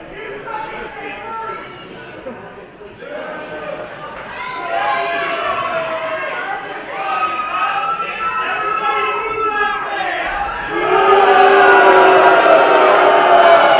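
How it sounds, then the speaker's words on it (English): Wrestling event crowd booing and shouting at a wrestler, a swelling mass of voices with rising and falling jeers that grows louder and ends in a loud, sustained roar. "Everybody booed that man."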